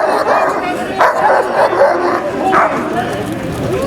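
A police dog barks and yelps during a handling demonstration at a public emergency services day in Cardiff, with loud excited barks and whimpers mixed with shouting voices.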